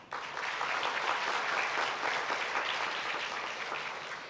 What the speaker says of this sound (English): please give a big and a loud applause to Mr.